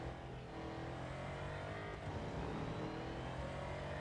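Car engine in Real Racing 3, cockpit view, a steady droning hum that holds at a constant level throughout, with no voices over it.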